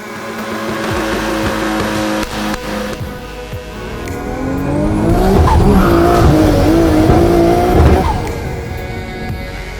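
A race car with a small Honda engine roars and revs, pitch rising and falling, with tires squealing and skidding as it swells louder mid-clip before easing off.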